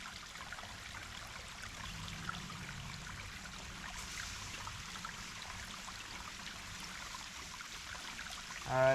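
Water overflowing from a small dam past a water wheel, a steady outdoor trickle and rush of flowing water, faint and continuous, with a brief louder sound at the very end.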